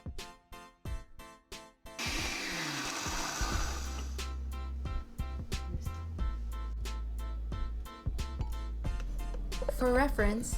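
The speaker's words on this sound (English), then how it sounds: "Blend until all ingredients are evenly mixed." A blender whirs steadily for several seconds blending green salsa with garlic, onion and cilantro, its motor pitch shifting slightly as it chops, with background music playing throughout.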